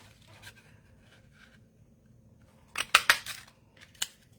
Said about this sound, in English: I'll cut the 5th one now. Just punch it out.